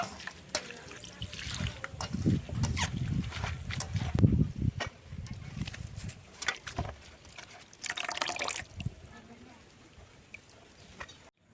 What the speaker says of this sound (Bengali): এবার ভালোভাবে ধুয়ে নিচ্ছে